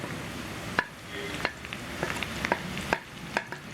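Sliced shallots and curry leaves fry in hot oil for a tempering for chicken curry, a steady close sizzle broken by sharp scraping clicks of a spoon stirring the pan every half second or so.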